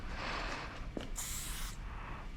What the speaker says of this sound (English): there's more color coming, more paint coming out of the spray can than usually